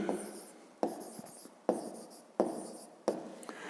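Handwriting on paper while working a fifth-grade math exercise, five separate bursts of scratchy pen strokes each opening with a light tap, close and soft with no speech.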